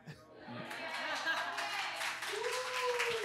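Someone in a studio audience claps at length: a steady wash of hand claps runs the whole time at moderate distance, with a voice talking over it and a rising vocal sound near the end.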